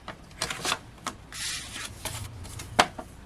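Printed card paper cut down to size for cardmaking on a trimmer, with a sliding swish of the blade between scattered taps and rustles of the card, close and moderately loud with no talk.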